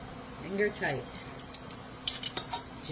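Metal bands are screwed finger tight onto canning jars of triple berry pie filling, with light metallic clinks and scrapes of glass and lids, while a voice briefly speaks.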